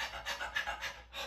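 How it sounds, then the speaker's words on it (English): A whelping dog in early labour pants continuously with fast, rhythmic breaths, close and steady, with no voices over it. "So panting is, it's a continuous fast pant."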